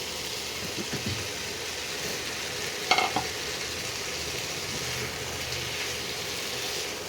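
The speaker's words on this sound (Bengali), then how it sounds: "এখন আমি ডালটা, তরকার ডালটা, সেদ্ধ করা ডালটা এবার আস্তে আস্তে দিয়ে দেবো।" Boiled lentils are added to chicken masala frying in a pan, with a steady soft sizzle and a brief clatter of the spoon partway through, no voices.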